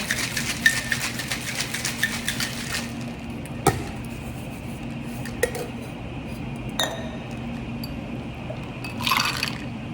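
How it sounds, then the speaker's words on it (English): Ice and tequila in a cocktail shaker, with a rapid rattling burst of ice at the start followed by scattered clinks and knocks of glass and metal. "I already have ice here in my shaker."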